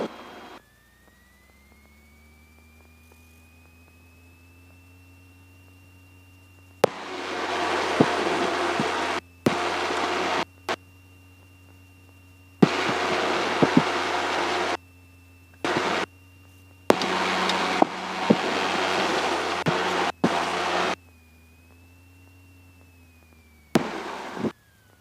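A single-engine Malibu aircraft idles during a pre-flight run-up systems check, a steady tonal engine drone under loud, intermittent broadband bursts that swell and cut off repeatedly.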